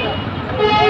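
A CNG auto-rickshaw toots its horn amid road traffic beside a bus at a stop on the Dhaka–Kishoreganj route, a brief nasal honk over engine rumble.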